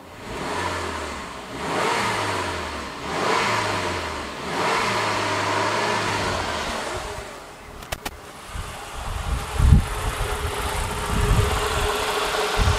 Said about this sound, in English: And I'm going to rev the engine.